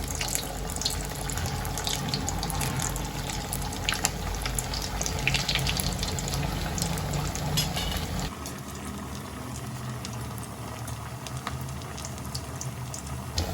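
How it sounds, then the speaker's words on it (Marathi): Sabudana vada, two or three at a time, frying in hot oil, giving a loud, dense, continuous bubbling sizzle up close that drops noticeably quieter partway through. "आता तेल गरम झालं आता साबुदाणा वडा टाकते"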